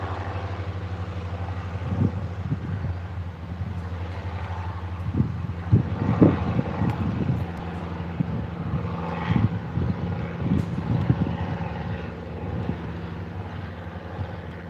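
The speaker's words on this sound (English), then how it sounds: "Not the world's biggest helicopter, but it's not too bad." A small helicopter flies off from Moorabbin Airport, its rotor and engine drone steady and fairly close before slowly fading, with gusty wind-like rumble and no talk.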